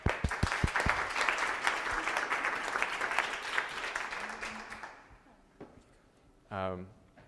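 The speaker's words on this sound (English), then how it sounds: "a little round of applause for Tessa from the ground." A crowd applauds warmly for several seconds, the clapping fading out near the end, followed by a brief voice.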